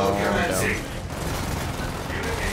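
Machine guns firing in the tank-building game Sprocket, a dense, continuous fusillade of rapid bursts throughout, loud and close, with a voice talking over the shooting.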